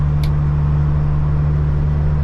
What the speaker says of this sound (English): I'll get some videos of the truck in the tunnel, because I know everyone likes to hear that